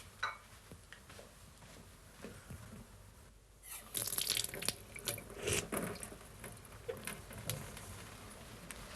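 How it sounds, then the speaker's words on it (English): Water running from kitchen taps in a house, starting as a soft background flow and turning louder and splashier about halfway through, with irregular bursts and gurgles as the stream hits the sink. "I'll just check the taps."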